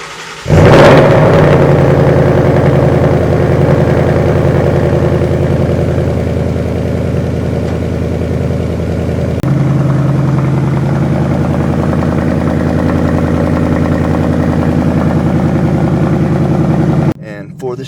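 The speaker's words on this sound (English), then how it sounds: "we'll get started with a cold start." A Ford Mustang GT V8 fires up from a cold start with a sharp, loud crank and catch, then settles into a deep, steady rumbling high idle that drops slightly partway through before cutting off.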